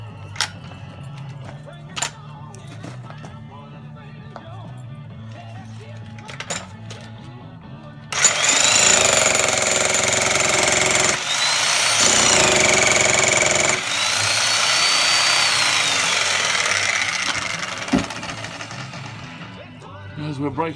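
A power tool breaks out a concrete dome around a rusty steel house stump. It roars loudly for several seconds, cuts out briefly, then resumes, after quieter clinks and taps.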